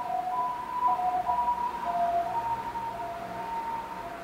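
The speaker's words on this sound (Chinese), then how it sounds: "就是救护车的 BGM 呢，为什么那么常出现？" An ambulance siren wails at moderate distance, a steady alternating tone repeating over a low background hum with nothing else heard.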